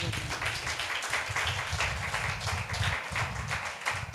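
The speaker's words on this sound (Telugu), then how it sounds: "గట్టిగా చప్పట్లు కొట్టండి" Congregation in a church applauding together, a steady dense wash of many hands clapping throughout, fairly loud and continuous with no speech over it.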